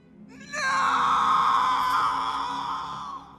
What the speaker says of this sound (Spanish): todos nos sentimos muy tristes con el desgarrador grito de Frodo